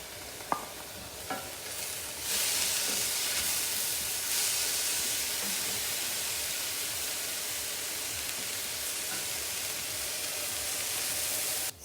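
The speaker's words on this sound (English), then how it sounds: "in the meantime, the peppers are getting cooked" Bell peppers sizzle steadily in a hot pan after a few brief stirring clicks, a loud, continuous hiss of frying that holds to the end.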